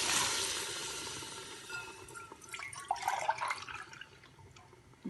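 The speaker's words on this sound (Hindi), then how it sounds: "हम डालेंगे, आधा किलो हमारे चावल हैं, 2 गिलास, तो हम 3 गिलास पानी के डालेंगे।" Water is poured from a glass into a cooking pot of achari biryani with chicken and half a kilo of rice, giving a soft, steady splashing gush that fades into faint trickles and drips, quiet and close.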